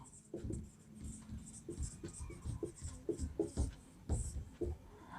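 Chalk or marker strokes on a classroom board during a math lesson, a steady run of short scratchy marks close by with a faint hum beneath.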